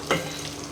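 Goat tripe boti curry fries and sizzles in a pan in village-style home cooking, a brief stir and then a soft steady hiss.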